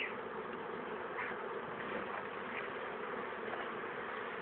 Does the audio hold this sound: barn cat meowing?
no